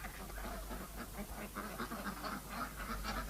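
Ducks quack in repeated, overlapping nasal calls at moderate distance, among poultry kept in a permaculture farm setting, with a low steady rumble underneath and no talking.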